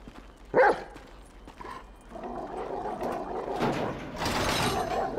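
Chop the dog barks in Grand Theft Auto V, one sharp close bark near the start, followed by scuffling, rustling game sounds and a noisier louder stretch toward the end.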